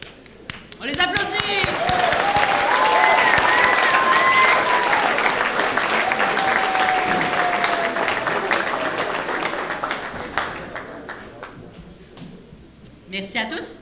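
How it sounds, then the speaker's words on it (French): Dense applause from an audience at a cultural awards gala, loud and sustained for about ten seconds with cheering voices mixed in, then thinning out and tailing off. "On les applaudit!"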